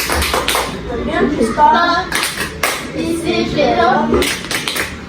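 A school class claps together in a rhythmic tepuk polisi clap routine, bursts of group clapping in a patterned rhythm mixed with children's chanting voices, close and lively.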